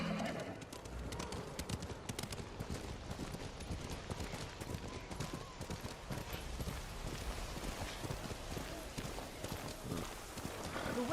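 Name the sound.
horse hooves clip-clopping in the video game Ghost of Tsushima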